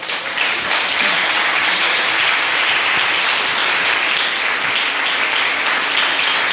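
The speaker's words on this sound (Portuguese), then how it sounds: "Você pode aplaudir o Senhor aí," Worshippers at a Sunday church service burst into loud, steady applause, a thick wash of many hands clapping continuously for several seconds with no break.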